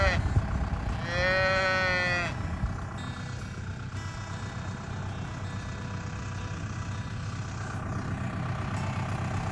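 A young cow or heifer in a field lets out one loud, close moo early on, with outdoor rumble and faint movement of cattle continuing afterward.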